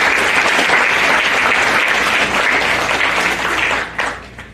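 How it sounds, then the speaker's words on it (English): Audience applause at a League of Women Voters candidate forum, a loud, sustained burst of clapping from a room full of people, holding steady before tapering off near the end. "Let's have a round of applause."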